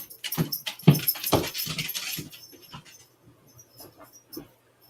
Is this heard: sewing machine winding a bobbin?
no